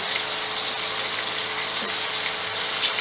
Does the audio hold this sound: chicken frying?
yes